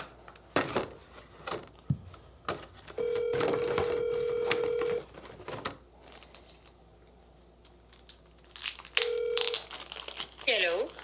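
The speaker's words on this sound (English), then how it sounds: "Hey Siri, call Houston" A phone call placed by voice command to a contact's home phone: short tones, then a steady ringback tone sounding twice with a pause between, set among rustling, clinking and a voice.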